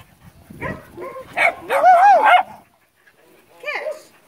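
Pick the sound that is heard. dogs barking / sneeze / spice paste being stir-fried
dogs barking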